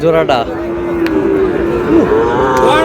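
Sahiwal bull calves moo loudly and close by in a long, drawn-out low call with a few shorter bellows, against a busy background of livestock and human voices.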